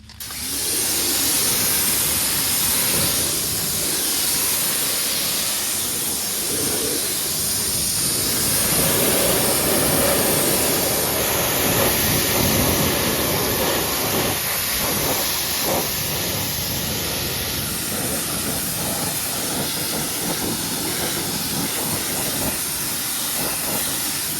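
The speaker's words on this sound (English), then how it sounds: "now I'm going to use my pressure washer with the white tip" A pressure washer fitted with a white tip sprays neglected wheels and tires, a loud, steady hiss and rush of water that runs without a break from start to finish.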